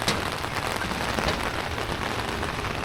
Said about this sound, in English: And then we have rain.